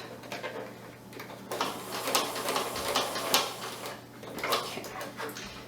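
A sewing machine runs in bursts, backstitching and forward stitching on a quilted potholder, its motor humming with rapid mechanical stitching that pauses briefly and starts again, fairly close.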